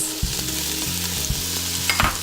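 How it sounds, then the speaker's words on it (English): Mirepoix vegetables with garlic, onions, carrots and red pepper seed sizzle steadily in a hot pan, with a few low stirring knocks and scrapes over the constant frying hiss. "I will now add our mirepoix, all of our vegetables, the garlic, the onions."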